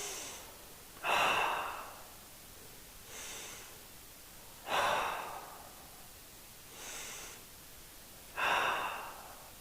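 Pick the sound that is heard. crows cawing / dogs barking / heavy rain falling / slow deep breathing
slow deep breathing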